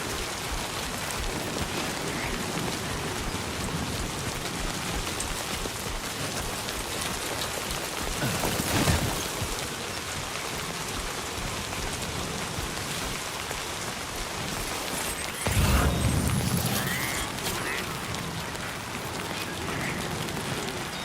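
Steady heavy rain pours across an outdoor scene in the video game Death Stranding 2: On The Beach, a dense continuous hiss with two brief louder low rumbling bursts partway through.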